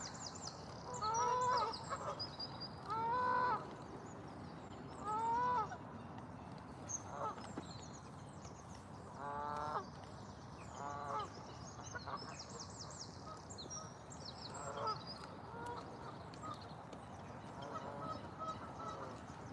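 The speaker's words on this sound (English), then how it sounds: "The geese are in the background." Geese honk repeatedly at a distance in Braunstone Park, in scattered bursts of several calls, over a faint outdoor background hum.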